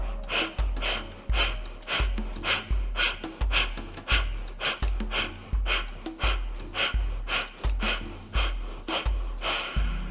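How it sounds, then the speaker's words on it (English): Breath of fire yoga breathing during a vinyasa flow, a steady train of sharp, forceful nasal exhales about twice per second, close and loud, with no talking. "As we take our second round of fire's breath, big inhale, rapid exhales."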